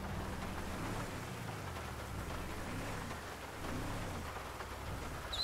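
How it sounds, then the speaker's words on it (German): Steady rain pours in the Grand Theft Auto V video game, a dense, continuous hiss of falling water over a low rumble, loud and unbroken throughout with no talk. "Regen in Spielen ist ja immer schwierig darzustellen."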